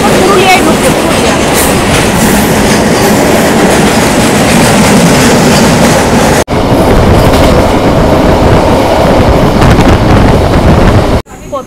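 Kharagpur to Purulia MEMU train running as it pulls into Purulia, a loud, steady rumble of wheels and carriage noise with rushing wind, briefly dipping near the end.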